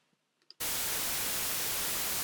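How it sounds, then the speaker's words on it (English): After a short near-silent lead-in with small clicks, a loud, steady hiss of white noise test signal starts abruptly and continues evenly to the end. "So what we do is we take white noise"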